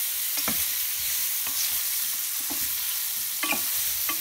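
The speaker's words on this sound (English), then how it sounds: "So just toast the mushroom to coat the mushroom with the oil and then spread it in a single layer" Mushrooms sauté in oil in a pan with a constant soft sizzle, broken about once a second by brief scraping stirs, with no one speaking.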